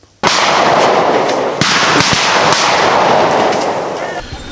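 A sudden loud burst of gunfire during Sierra Leone armed forces cadet training, with several sharp cracks and booms that echo into a long rumbling wash and slowly die away.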